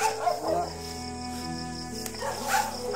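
Several dogs bark and yip intermittently along a rural road in the Philippines, moderately close, mixed with a continuous engine hum and someone talking over them.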